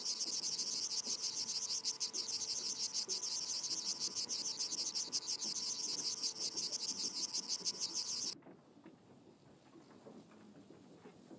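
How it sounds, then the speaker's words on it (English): Cicadas in a video game buzz in a loud, steady pulsing drone that fills the scene for about eight seconds, then cuts off abruptly, leaving faint ambient background. "Let's play the cicadas."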